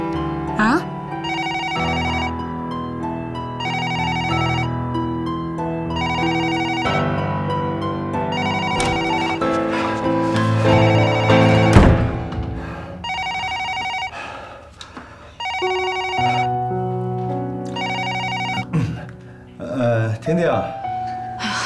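A telephone in a Chinese TV drama plays a melodic ringtone. Its bright, repeating note patterns ring loud and close and continue for many seconds with brief gaps.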